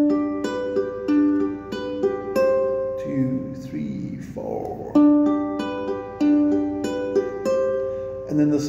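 Ukulele strummed in a steady rhythm for the introduction of a song, bright chords with picked notes mixed in, close and clear with no talking.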